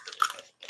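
A close, quick bite into a crunchy pecan gives a brief crisp crackle, a short pause, then another sharp crunch, with no talking.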